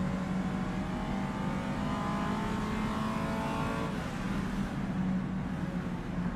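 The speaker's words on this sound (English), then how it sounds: "You hear the noise of the engine." A race car engine in the sim game rFactor 2 at the Targa Sicilia event drones steadily at high revs, a continuous buzzing tone that holds even and loud, dipping slightly in pitch midway before climbing again.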